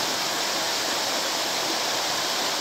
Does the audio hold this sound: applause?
no